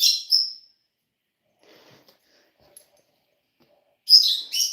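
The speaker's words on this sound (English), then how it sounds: "I have little lovebirds in the bird cage over there." Pet lovebirds in a bird cage give sharp high squeaks and chirps in short bursts at the start and end, with quiet faint rustling between.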